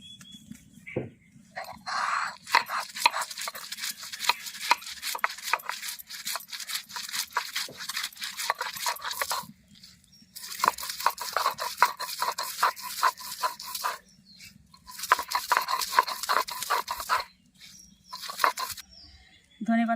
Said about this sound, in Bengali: ধনে পাতা বেটে নেব